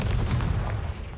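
A Confringo fire spell explodes in Hogwarts Legacy, a brief, dense low rumble of blast that sustains for about a second before easing off.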